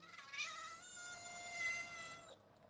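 A single long, drawn-out meow voiced by a person imitating a cat, close and clear, wavering in pitch before it cuts off.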